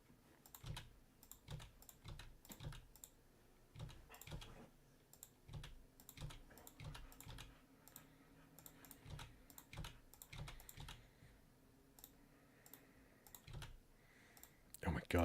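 Computer keyboard typing during a daily fantasy baseball lineup session, with irregular bursts of sharp clicks and keystrokes close to the mic, pausing and resuming across the span, with faint voices in the background.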